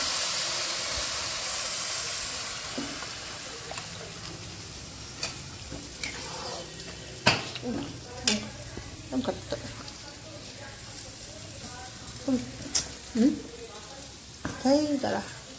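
Water goes into a hot pan of pulao on the stove, a loud hissing sizzle at first that settles into a softer bubbling, with voices talking over it.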